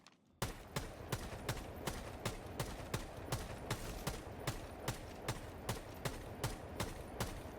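Video game assault rifle fire against a window or barricade, a rapid steady run of about twenty evenly spaced shots, close and sharp, with no talk over it.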